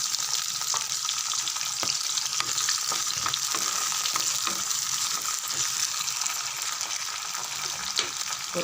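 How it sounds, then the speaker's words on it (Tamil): Small onions and crushed garlic sauté in hot oil for a garlic pepper kuzhambu, giving a steady, close, even sizzle that fills the whole stretch with no talking. "ஒரு 2 செகண்ட் வதங்கட்டும்."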